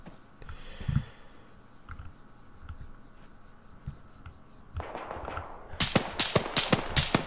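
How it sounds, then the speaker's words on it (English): Gunfire in the Arma 3 military game: faint distant shots pop early on, then a quick cluster of louder, sharper rifle bursts rattles in near the end over a low ambient hiss. "You can hear some shooting in the distance"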